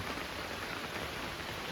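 Rain falling on a foggy hill road, a steady, dense hiss of drops with no talk.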